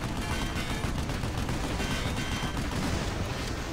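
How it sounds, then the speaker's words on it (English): Heavy machine gun fire in the Vanquish video game, a dense continuous rattle of rapid shots with booming low-end impacts, loud and unbroken throughout. "I need the heavy machine gun here."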